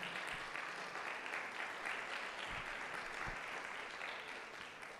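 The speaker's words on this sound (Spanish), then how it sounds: "¿Cuántos le dan un aplauso al Señor?" A church congregation applauds at a Spanish-language worship service, producing a steady wash of clapping that holds through the whole stretch with no talk over it and fades slightly toward the end.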